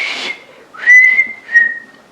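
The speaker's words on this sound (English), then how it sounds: "so I can't whistle very well" A person whistles a few short, wavering notes, close and fairly loud, with a brief breathy attempt before two sustained tones.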